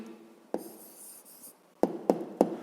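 A pen scratches on paper nearby as an answer is written down for a fifth-grade maths exercise, with a short stroke followed by three quick firm taps, like marks or numbers being finished.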